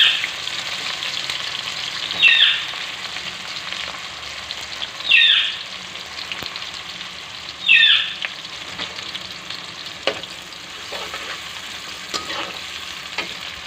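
Green onions stir-fried with boiled macaroni in a lightly oiled pan, a steady frying sizzle with three distinct spatula scrapes spaced a few seconds apart, close and clear with no talking.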